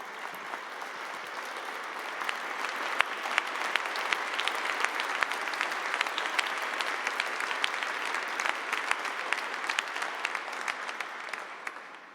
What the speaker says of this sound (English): Stand up and give Zenobia a loving round of applause.